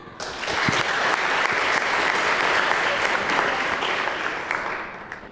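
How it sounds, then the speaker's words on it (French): Studio audience applause welcoming a guest onto a youth talk show, a full burst of clapping that swells quickly, holds steady for several seconds, then tapers off near the end. "Monsieur Obion Médard, sous vos applaudissements s'il vous plaît."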